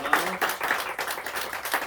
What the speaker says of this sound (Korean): 우리 하나님께 감사의 영광의 박수를 올려드리겠습니다.